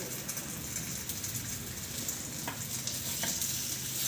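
Egg unniyappam batter sizzles in a hot appam pan, a continuous close bubbling fry with fine crackles and a couple of faint taps, with no voices.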